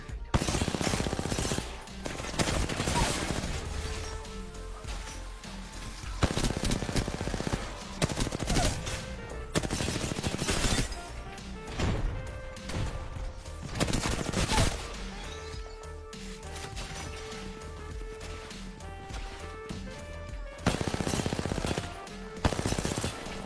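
Gunfire in the Apex Legends video game, repeated loud bursts of automatic fire and single shots in irregular clusters with brief gaps, dense and close throughout.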